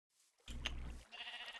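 A sheep in Minecraft lets out a single short bleat that comes through clearly in the game audio, while quieter game sounds carry on after it.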